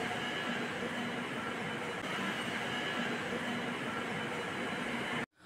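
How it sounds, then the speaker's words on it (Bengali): A Kolkata Blue Line metro train runs underground from Esplanade, giving a steady, loud roar of wheels and carriage rumble that holds evenly throughout, then cuts off abruptly at the end. "এবার এখান থেকে ব্লু লাইন মেট্রো ধরে রবীন্দ্র সরোবর লেকে যাব।"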